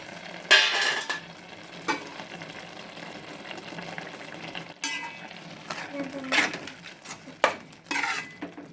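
A spoon stirs carrot halwa with cashews and raisins in a metal pan, giving scattered scrapes and sharp clinks against the pan at irregular moments over a soft sizzling background, with no speech.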